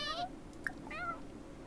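A cat in The Sims 4 game meows for attention, two short quiet meows with a small click between them.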